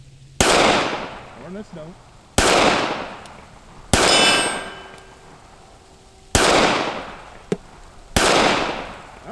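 A Ruger LCPII pistol fires five sharp shots at a steel cowboy target at an outdoor range, each crack followed by a ringing clang and decaying echo, spaced a couple of seconds apart, with a brief spoken remark between shots.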